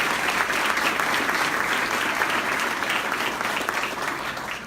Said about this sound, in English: Please help me in giving another round of applause to Mr.